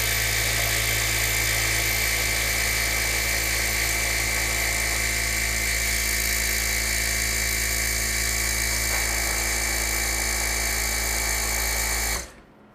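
A sewing machine winding a bobbin, a steady high whirring motor hum held close and constant for several seconds before cutting off abruptly.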